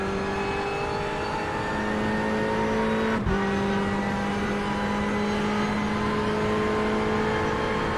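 Race cars lap the banking at Daytona International Speedway in a night race in a racing video game. A steady, loud engine drone holds throughout, with one brief dip where the pitch shifts. No voices are heard.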